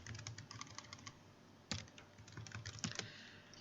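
Rapid, uneven clicking of computer keyboard keys being pressed, close and quiet, with a few sharper, heavier strikes breaking the flow of typing.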